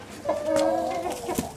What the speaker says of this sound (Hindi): ये जी हमारा मुर्गा है, माशाल्लाह से बड़ा प्यारा और खूबसूरत।